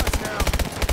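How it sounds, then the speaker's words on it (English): Rapid automatic gunfire in Call of Duty Advanced Warfare zombies, a tight burst of about a dozen loud, close shots in quick even rhythm. "Two shots now."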